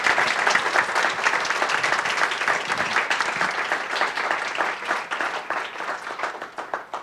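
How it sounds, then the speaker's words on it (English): A lecture audience gives a sustained round of applause after a math talk, steady dense clapping from many hands that holds for the whole stretch and thins slightly toward the end, with no speech over it. "please giving a nice round of applause"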